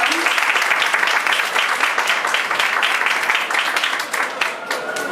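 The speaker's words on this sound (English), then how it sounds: "Big round of applause." Sustained, dense applause from a panel audience at a film festival filmmakers' session, loud and even across the whole stretch before easing slightly near the end.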